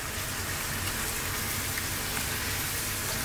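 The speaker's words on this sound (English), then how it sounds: "Now I'm going to chuck in some pasta" Cooked pasta hits a hot pan with cream, onions and garlic for shrimp cream garlic pasta, giving a dense, even hiss of sizzling that holds steady throughout.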